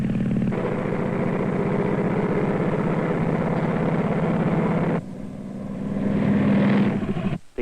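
An airplane in flight gives a continuous, loud engine drone. Partway through, the sound cuts abruptly to a different engine tone, which then swells.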